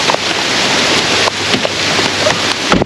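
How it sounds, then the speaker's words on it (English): Heavy rain pours down outdoors on a windy day in a backyard, a steady loud broadband hiss with occasional gusts and brief louder bursts, no talk. "Guess we'll wait till the rain stops."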